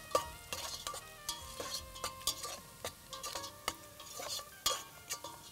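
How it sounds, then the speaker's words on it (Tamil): Sliced onions fry in a pan with cashews and a pinch of salt, sizzling steadily while a utensil scrapes and stirs in repeated sharp clatters, close and alone without voices. "வெங்காயம் நல்லா பொரிஞ்சு வதங்குது."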